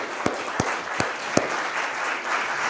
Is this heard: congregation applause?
yes